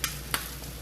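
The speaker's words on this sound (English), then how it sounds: "I'm going to put that into the pot with the onions and the potatoes, sweet potatoes" Cooked peppers tip into a pot holding onions, potatoes and sweet potatoes. Two sharp clattering thuds come close together, followed by a brief soft sizzle and stir against the pot.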